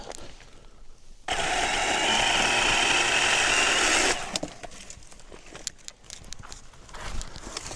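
A Milwaukee M18 Hatchet battery saw cuts through wood in a camping setting, a loud, steady buzzing roar lasting about three seconds after a quiet start, then stopping abruptly into faint rustling and light knocks.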